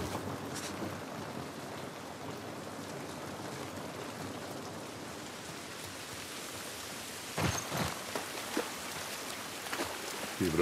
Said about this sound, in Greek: Η βροχή δεν μας βοηθάει καθόλου.